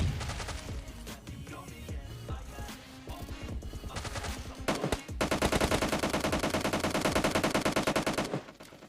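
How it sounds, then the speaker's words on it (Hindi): Automatic gunfire in the PUBG Mobile Lite battle royale game, with dense bursts of rapid shots, a brief pause, then a long sustained loud volley, all close and without speech. "तो फिर इन बंदों के टीममेट सब जो होते हैं वो हमारे पर कुछ शॉट्स ले रहे होते हैं"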